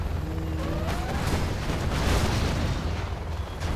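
Suicide bike explosions in the strategy game Command & Conquer Generals Zero Hour, a dense, continuous roar of blasts and debris that booms loudly throughout, with a few faint tonal game effects underneath.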